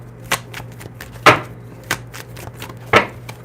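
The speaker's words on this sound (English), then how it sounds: "Give me a minute to shuffle." Tarot cards being shuffled by hand: a few sharp, crisp slaps and taps come at irregular intervals over a low, steady background hum, with no talking.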